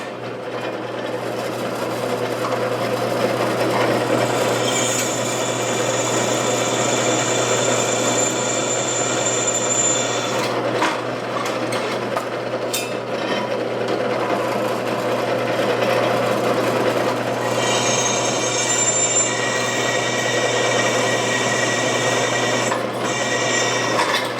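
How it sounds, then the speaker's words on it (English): A steady mechanical drilling whine runs throughout as a bit drills quarter-inch holes in metal for a 1937 Studebaker body, a high-pitched tone rising and dropping as it works through; no talking. "I'm going to drill the 1/4-inch holes."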